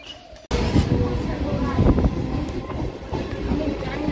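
A passenger train runs with a loud, steady rumble and rhythmic wheel clatter that begins abruptly and continues without a break, heard close from on board.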